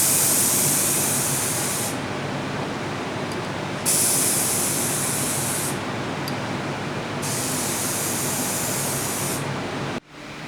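Rattle cans spray-paint a Raleigh Bomber bike frame in a steady, loud hiss that runs in long bursts with short breaks between them, close to the listener and with no voices.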